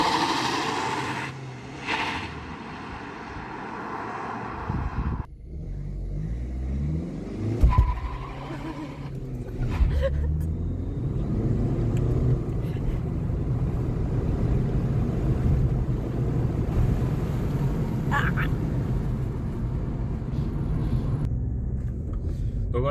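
A used Audi's engine roars and climbs through the gears as it accelerates hard from 0 to 100 km/h, tires briefly squealing, the rising drone filling the cabin with occasional talk underneath.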